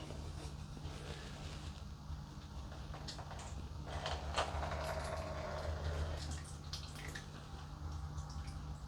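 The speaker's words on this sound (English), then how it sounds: "this might take a few minutes to drip through" Liquid from a potato wash drips through muslin cloth in a funnel, giving soft, irregular drips over a steady low background hum, quiet and nearby.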